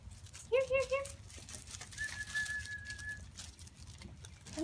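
A pigeon or dove gives a short run of close, soft cooing notes near the start, followed by a faint whistle-like tone, heard outdoors with low background noise.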